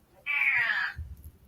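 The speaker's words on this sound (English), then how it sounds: "Is that your cat?" A house cat lets out a single drawn-out meow, clear and close, which fades into faint low background sounds.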